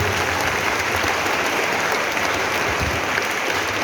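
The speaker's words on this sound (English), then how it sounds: "give a round of applause to" Students in a classroom applaud six project teams at the close of their project: a steady, dense wash of clapping that stays even and loud throughout, with no voices rising above it.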